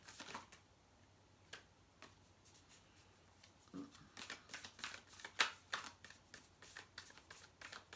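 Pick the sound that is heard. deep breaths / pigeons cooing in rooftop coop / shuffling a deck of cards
shuffling a deck of cards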